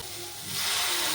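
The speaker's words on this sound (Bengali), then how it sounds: "এবার আমি এতে একটু জল ঢেলে দিচ্ছি।" Water poured into a hot pan of frying Malabar spinach (pui shak) sets off a rising, steady steam hiss that swells and holds loud to the end.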